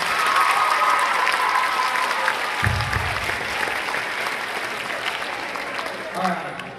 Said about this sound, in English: That was awesome. Another round of applause.